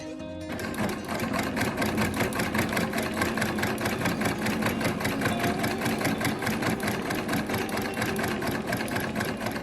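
A restored 1910 National Paveway antique sewing machine stitching steadily, its fast mechanical clatter running rhythmically and close for the full length with no talking.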